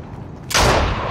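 A single loud sniper rifle shot in Fortnite, cracking sharply out of quiet game background and leaving a broad, lingering boom that decays over the next half second.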